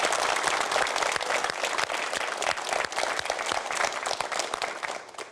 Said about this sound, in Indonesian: Boleh berikan tepuk tangan untuk semuanya.